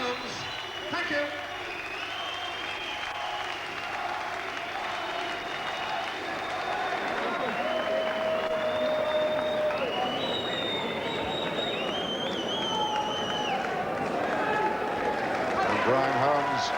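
A boxing arena crowd applauds after the Billy Hardy versus Brian Holmes British bantamweight title fight, a sustained roar of clapping and cheering with a commentator talking over it throughout.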